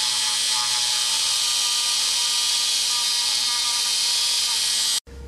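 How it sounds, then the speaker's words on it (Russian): A drill bores a hole in a soldered metal part, a steady high-pitched whine running continuously before cutting off abruptly near the end. "сверлю отверстие и нарезаю в нем резьбу М4"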